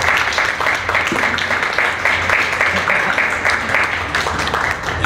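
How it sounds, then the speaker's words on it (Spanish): A concert-hall audience applauding a Chilean musician, a loud, steady wash of many hands clapping that carries on without a break. "yo lo voy a saludar con un aplauso como merece un gran artista"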